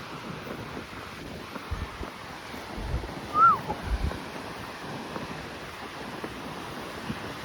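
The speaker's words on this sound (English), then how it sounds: "Yeah, it's really windy." Strong wind buffets and roars steadily at Seaford Pier by the sea, with waves rumbling underneath and gusts thumping against the microphone.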